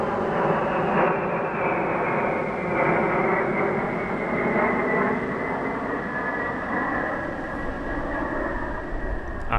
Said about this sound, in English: the first B-1 joined up with a second example for a pairs formation pass